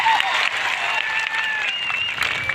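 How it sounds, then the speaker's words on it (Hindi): Crowd at a World Indigenous Day event in India breaking into loud applause, dense clapping sustained through the short moment. "एक बार जोरदार आपके लिए तालियां बजा दी जाए"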